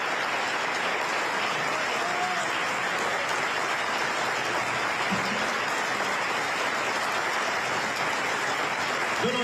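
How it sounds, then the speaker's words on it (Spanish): An audience applauds for Bernardo at a provincial political event, steady dense clapping that fills the space at full loudness throughout, with no voices standing out. "Un aplauso para Bernardo."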